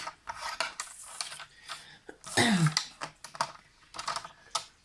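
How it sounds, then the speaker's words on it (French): Paper being folded and creased for a scrapbook wedding invitation makes soft rustling and scraping rubs in irregular bursts, close and fairly quiet, with one louder crinkling sweep in the middle. "Donc on va venir faire des plis."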